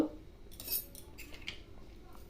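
A spoon mixing moong dal, with a few soft metallic clinks and scrapes against the vessel over a couple of seconds, fairly quiet and close.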